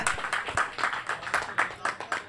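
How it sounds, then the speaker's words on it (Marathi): Spectators at the Sindhudurg Chashak 2025 cricket tournament clap for both teams. A brisk, rhythmic round of applause sounds at moderate distance and continues steadily throughout. "या दोन्ही टीमसाठी जर एकदा जोरदार टाळ्या होऊन जाऊ द्या"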